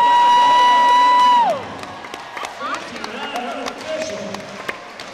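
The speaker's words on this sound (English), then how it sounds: "Cheer Jamie on. Come on, let's hear it for him one more" After a loud, sustained horn-like tone, a crowd at a running race cheers and claps for a runner, its scattered shouts and claps continuing at moderate volume while an announcer talks over them.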